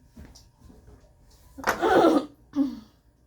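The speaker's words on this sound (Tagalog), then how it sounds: "Pinipeke mo na naman yung ubo mo." A person fakes a cough close to the mic, a short forced burst followed by a second smaller huff, with quiet background noise before it.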